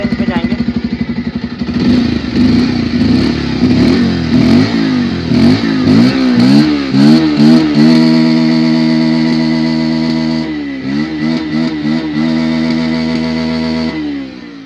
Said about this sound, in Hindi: बट एग्जॉस्ट मैं आपको सुना देता हूँ। तो गाड़ी को फर्स्ट ऑफ ऑल स्टार्ट कर लेते हैं।